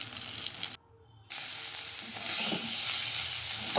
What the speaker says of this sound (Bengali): এবার আমি ভেজে রাখা সবজিগুলো তুলে দিলাম